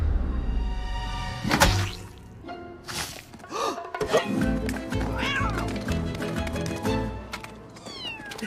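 A cat in an AI-generated scene at a seafood market meows several times, clear and close, amid whooshes, thumps and busy background sounds.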